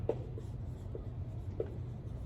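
Marker or pen writing on a board during a biology lecture, heard as short, scattered scratchy strokes at close range over a steady low room hum, with no talk.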